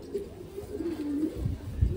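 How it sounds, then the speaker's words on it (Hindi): A white-eyed Cheena pigeon, a Punjabi Malwai flying breed, gives low soft coos close by, with a few muffled thumps and handling bumps toward the end. "इस सफेद आंखों का चीना कबूतर देखो ना भाई"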